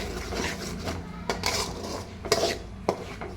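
A spoon scrapes and clinks against a metal pan while egg sambar masala is mixed and fried, giving soft irregular taps and stirring scrapes at close range with no talking.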